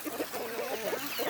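Several chickens cluck softly and continuously close by, a brief murmuring chorus of short, low calls.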